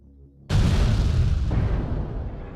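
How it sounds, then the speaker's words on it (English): Missiles hit and explode in a mech video game: after a moment of near silence, a sudden loud boom bursts in and rolls on as a dense, rumbling blast that slowly fades. "You see how there's those missiles will go out there, and we'll go and hit spots just like that."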